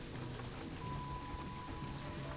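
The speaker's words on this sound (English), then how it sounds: "Rain." Steady rain patters across surfaces in the zoo-building game Planet Zoo, a soft continuous wash of droplets with a faint tonal hum running beneath, no voices present.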